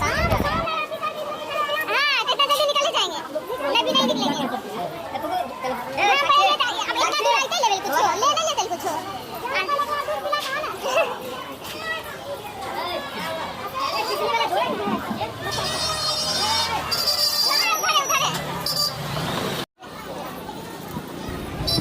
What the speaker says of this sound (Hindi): बहुत ज़्यादा भीड़ था।